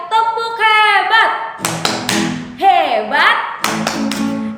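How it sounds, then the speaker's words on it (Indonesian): Children at a Sunday school service perform a rhythmic clapping chant, with sung or chanted voices alternating with sharp, close bursts of hand claps in a patterned beat. "Kita tepuk hebat dulu ya. Tepuk hebat."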